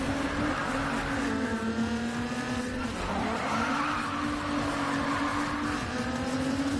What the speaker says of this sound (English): I'll give you guys a drift view so you can see how good my drifting really is